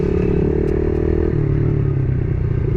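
A pit bike engine revs loudly and continuously up close during a game of pit bike soccer, its pitch dropping slightly midway.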